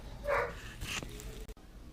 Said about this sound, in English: there's my dog barking away